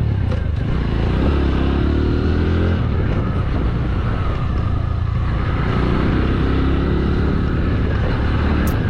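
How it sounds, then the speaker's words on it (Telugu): A TVS Radeon 110 motorcycle engine drones steadily while riding. A loud, continuous hum is mixed with wind rush, close and unbroken. "ఇంజన్ పర్ఫార్మెన్స్ అయితే మాత్రం ఎంత రిఫైన్డ్గా ఉందో ఇంజన్"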